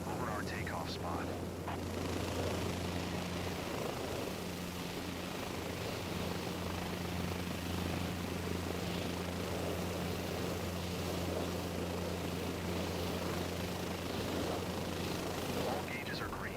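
A helicopter hovers over its takeoff spot in Microsoft Flight Simulator 2024, with a steady, continuous rotor drone and engine hum at an even level throughout.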